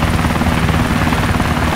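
Loud, steady aircraft roar in the video game DayZ, a continuous droning engine with a low rumbling hum that fills the whole moment without pause.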